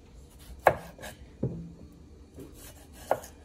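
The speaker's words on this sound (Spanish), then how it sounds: "Ahora vamos a partir los tomates." Knife chopping tomatoes on a board for a meatball spaghetti sauce, three separate firm cuts spaced unevenly over a quiet kitchen background.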